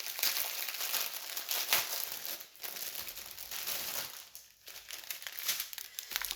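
Loud, close crinkling and rustling of a plastic bag of round diamond painting drills being opened, continuous with brief pauses and no talk.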